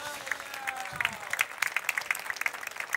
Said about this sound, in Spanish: Vamos a darle un fuerte aplauso al jockey que condujo a Aerotrem a la victoria.